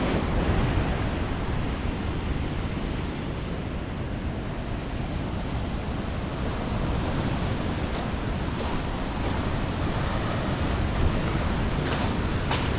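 Ocean waves rolling onto a lagoon beach at Dry Lagoon, California as the tide comes in, a continuous loud wash of surf with wind noise and no break in the roar.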